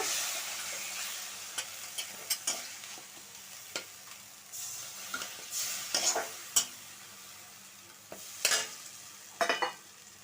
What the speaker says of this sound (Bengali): এক চামচ কাঁচা লঙ্কা দিয়ে দিচ্ছি বাটা দিয়ে ভালো করে নাড়িয়ে নিচ্ছি একটু জল দিয়ে দিলাম সামান্য